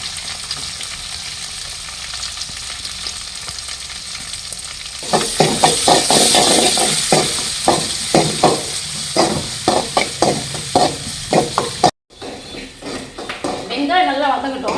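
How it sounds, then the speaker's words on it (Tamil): Sliced onions and curry leaves sauté in hot oil for a Tamil fish curry, starting as a quiet hiss and then turning to close, repeated scraping stirs with sizzling over a steady rhythm and a brief break near the end. "வெங்காயம் நல்லா வதங்கட்டும்."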